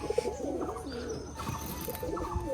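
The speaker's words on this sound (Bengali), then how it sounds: "এই জামালের পায়রাটা ও আগে থাকতো না এই খাঁচায়" Pigeons cooing beside their cage on a cloudy day, soft rolling coos that repeat and overlap up close, with a faint rustle and no talking.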